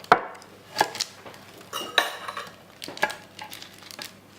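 A knife cuts into a loaf of gluten-free, grain-free paleo bread in a kitchen, making a series of sharp scraping and clattering taps at irregular intervals, close and moderately loud.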